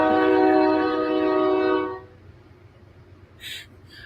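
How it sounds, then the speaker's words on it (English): A passing train sounds a loud, sustained horn blast for about two seconds, then fades to a low rolling rumble of rail cars, with a brief faint high chirp near the end. "the train rolling by is blowing out everybody's audio"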